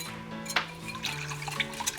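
Water pours and trickles into a bowl nearby, with small splashes and a light clink against the container.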